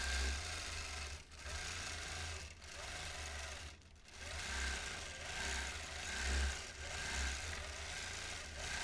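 A sewing machine doing freehand quilting runs in a steady, continuous whir that surges and dips slightly in speed, with a few brief pauses, close and fairly quiet, no voices.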